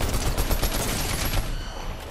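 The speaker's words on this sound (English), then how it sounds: "I can hear the shooting." Gunfire in the Fortnite video game, a loud, dense burst of rapid shots that keeps going for about two seconds and then fades out, with no talk over it.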